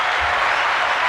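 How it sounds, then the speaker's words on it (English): Generic canned clapping sound effect, a steady dense wash of many hands applauding, loud and continuous for about a second with no voices over it. "Generic clapping soundtrack."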